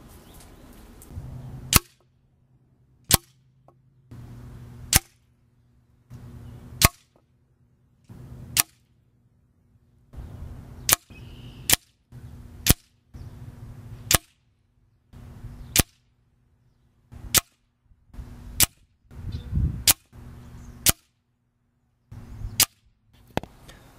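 An air rifle fires JSB and Crosman Premier pellets at a 25-yard target: about seventeen sharp, loud cracks spaced a second or more apart, with a faint low hum in the quiet gaps between shots.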